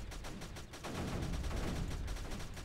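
Mortars fire steadily in the strategy game Creeper World 3, a quiet rapid series of repeated popping shots forming a continuous barrage.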